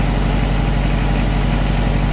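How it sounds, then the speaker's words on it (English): A Kubota tractor engine idles on a cold day with a steady, loud low-pitched diesel rumble, running continuously up close. "You can hear the engine come up a little bit."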